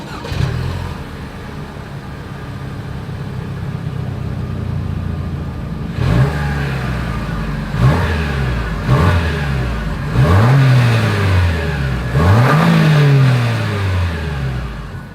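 A 2023 Lexus RX 350 idles steadily, then its engine and exhaust rev in four sharp blips, each rising and falling quickly, the last two longer and stronger, with no voices over it.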